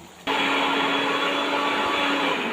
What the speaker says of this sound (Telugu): మిక్సీ సౌండ్, మా అత్తమ్మ మిక్సీకి టేస్ట్ వేస్తుంది.